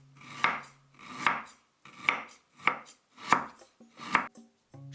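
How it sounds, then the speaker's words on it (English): A knife finely slices galangal on a cutting board in six steady, evenly spaced crisp cuts, close and clear with quiet pauses between strokes. "Finely slice as well 10 grams of galangal."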